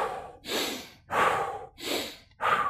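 A person demonstrates a forceful breathing exercise with four strong, rhythmic breaths through the nose, each a loud rushing huff with short pauses between, close to the microphone.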